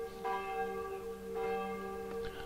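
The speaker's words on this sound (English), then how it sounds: "I'll be glad when I finish that bell practice." Church bells ring during bell practice in a video game, with three resonant, ringing strikes spaced about a second apart, each humming and slowly fading at moderate volume with no talk.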